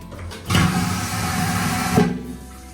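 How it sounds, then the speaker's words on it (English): A powerful flush from a cabin toilet aboard the Disney Wish cruise ship: a sudden loud whoosh that holds steady for about a second and a half, then ends with a sharp gulp. "We've got the toilet, which has what we've coined the power flush."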